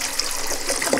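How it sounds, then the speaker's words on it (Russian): Filtered water poured from a store-bought bottle into a container, a steady broadband gush of liquid running close and continuous for the full second with no voices. "Сейчас мы попробуем залить воду."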